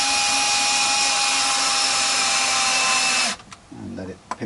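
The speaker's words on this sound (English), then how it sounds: "Reverse my drill, my screwdriver sequence" A power drill drives screws into a Telecaster neck plate with a loud, steady high whine that cuts off abruptly, followed by a short stretch of quieter handling and a voice.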